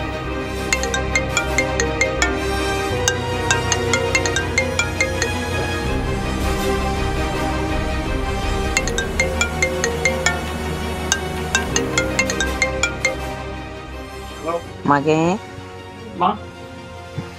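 A mobile phone ringtone in a Tamil Christian short drama, a repeating melodic ring that keeps going for many seconds with voices talking over it.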